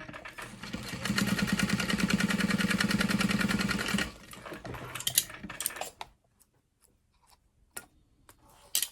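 A sewing machine top stitches a mini clutch wallet in a fast, steady mechanical rattle for a few seconds, then stops, followed by scattered clicks and handling noises.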